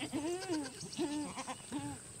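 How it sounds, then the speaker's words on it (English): Spanish goat bleating outdoors during kidding season: three loud, wavering calls in a row, each rising and then falling away, clear and close. "that's the goat I was looking for right there."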